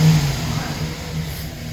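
A 2007 Chevy Silverado pickup truck engine idles close by, then revs briefly in a single throaty burst before settling back down.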